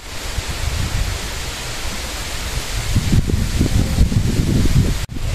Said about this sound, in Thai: ลมพัดแรงมาก